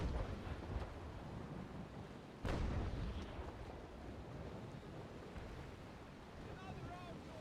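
Ship cannon fire at sea in the naval game Naval Action, a single deep distant boom rising from steady wind and wave noise, with talking voices.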